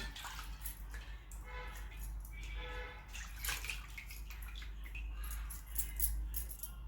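Ingredients for a kanji drink, such as beetroot and ginger, are rubbed and rinsed in water to clear off soil, giving faint splashing, trickling and clinking close by under a low background hum.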